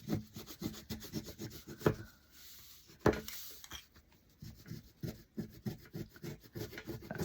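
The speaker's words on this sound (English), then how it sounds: "I think I scraped it too hard." Wax being scraped off a craft door plate, a close, quiet rasping and rubbing in short irregular strokes with a couple of sharper scrapes.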